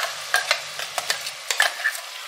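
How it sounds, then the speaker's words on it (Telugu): Ginger garlic paste and tomatoes fry in a pan: a faint sizzle runs beneath sharp, intermittent scraping strokes of a stirring spoon, heard close up. "ఈ టమాటాలు, అల్లం వెల్లుల్లి పేస్ట్ వేగిందండి."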